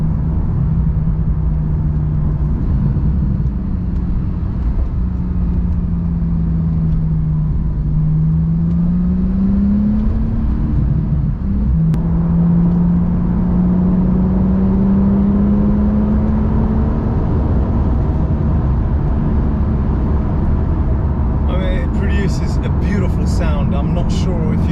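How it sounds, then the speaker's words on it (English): A Porsche 911 Turbo (991.1) in Sport Plus gives a steady loud cabin drone that rises and falls through the gears, with engine burble on downshifts and someone talking over it. "absolutely phenomenal sound on the downshift. That burble that you get"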